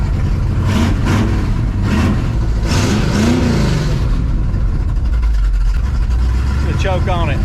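A 1968 Ford F-100 pickup with open exhaust cutouts revs hard, a loud, rumbling V8-style roar rising and falling up close while people talk over it.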